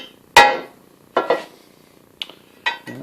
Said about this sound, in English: You can do a lot with a plastic hammer.